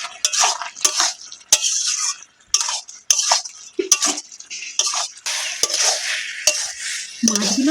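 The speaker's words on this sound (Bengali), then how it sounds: "এবার ওপর থেকে একটু সর্ষের তেল দিয়ে দেবো, দিয়ে ভালো করে মিশিয়ে নেব" Fish is turned with mustard oil in a pan, heard as repeated scraping, clattering stirring strokes in irregular bursts with brief pauses, loud and close, over a faint sizzle.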